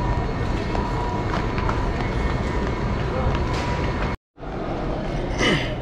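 An underground metro train in Montreal rumbles steadily along with loud, constant rolling noise, briefly cutting out before resuming; a voice is faintly heard near the end.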